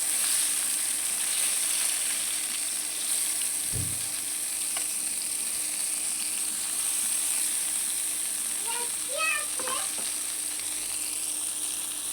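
Eggplant slices frying in a pan give a steady broadband sizzle throughout, with a brief clatter near the start and a few light utensil clicks toward the end; no one speaks.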